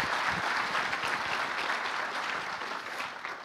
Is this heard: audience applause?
yes